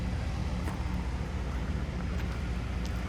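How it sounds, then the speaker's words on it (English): Tractors working in the background outdoors, a low continuous engine rumble mixed with wind noise, steady and fairly distant, with no talking. "There's a battle of the tractors out there at the moment"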